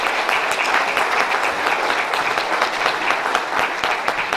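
Steady applause from an audience at a city center dedication ceremony fills the whole stretch, dense clapping at an even level with no voices on top.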